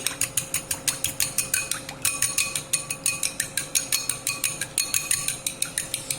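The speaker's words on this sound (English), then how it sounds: "So I'm going to add a bit of cold milk to the egg, and this is going to be the wash over the buns. Now just whisk them lightly." Egg and cold milk are whisked together in a bowl to make an egg wash for hot cross buns. The whisk strikes the bowl in quick, evenly spaced clicks, close and steady, with one brief pause.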